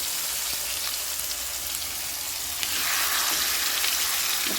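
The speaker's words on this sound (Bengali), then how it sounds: "কড়াই তেলটা গরম হয়ে গেছে, এবার এই মাংসটা আস্তে আস্তে তুলে দেবো।" Chicken leg pieces fry in hot oil in a kadai, giving a steady, dense sizzle that grows louder and brighter partway through, with no voices over it.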